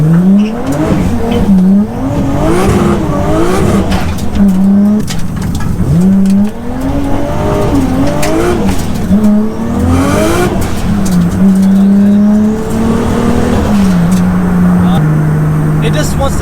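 A stripped, roughly 1300 kg 700bhp Nissan Skyline spins its wheels, its loud exhaust roaring and revving in repeated rising surges with tyre squeal, close and continuous throughout.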